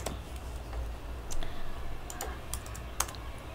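Typing on a computer keyboard, a few faint scattered key clicks and taps over a quiet background hum, no talk.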